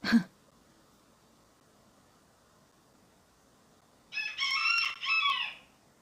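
A single rooster crows once, fairly distant, after a quiet stretch, with a brief thump at the very start.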